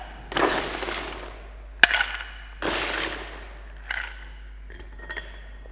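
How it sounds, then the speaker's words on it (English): Ice dropped into a cocktail mixing glass: several separate loud clattering bursts of cubes striking glass, with one sharp clink between them, close and without voices. "And then just add ice to your mixing glass."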